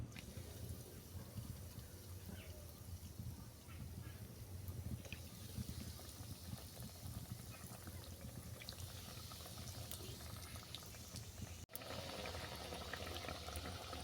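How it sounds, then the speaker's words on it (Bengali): Homemade vegetable cutlets frying in hot refined white oil, giving a dense, even sizzle that runs unbroken for the whole stretch, with one brief dip near the end. "তেল গরম হয়ে গেছে, এরপর কাটলেটগুলো আমি ভেজে নেব।"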